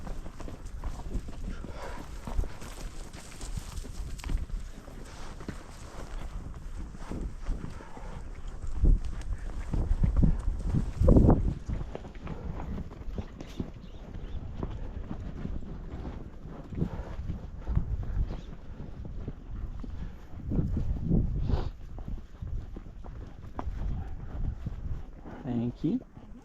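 Horses on a pack trip walk along a trail toward running water, their hooves clip-clopping unevenly over gusty wind noise on the microphone while people talk.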